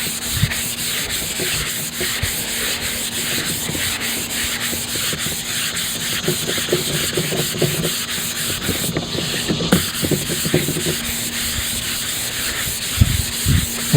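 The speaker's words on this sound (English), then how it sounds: "I am taking some 320 grit sandpaper and just lightly sanding off all those little grains that popped up" Steady, even rubbing of 320-grit sandpaper lightly on wild cherry wood for a truck bed floor, a continuous scratchy hiss with a faint background hum, close and fairly loud, no voices.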